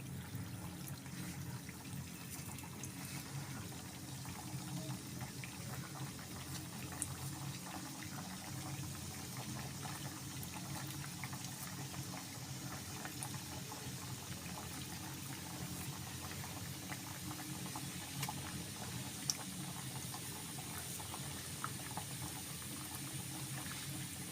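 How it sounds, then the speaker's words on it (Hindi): Donuts fry in oil over a low flame, giving a steady, even bubbling hiss that stays at one level throughout, with no voices. "ये लो फ्लेम पे फ्राई होना शुरू हो चुके हैं"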